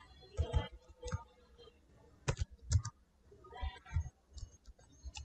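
Keys on a computer keyboard are tapped in short, uneven bursts of quiet clicks, close by in a calm room, with faint scattered taps between.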